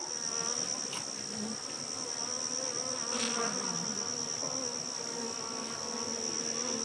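Honeybees buzzing around a hive while a new queen is being introduced, a steady, even swarm drone that holds throughout, moderately close and without any voices.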